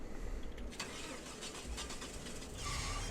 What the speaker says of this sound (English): First things first, we get the truck all fired up.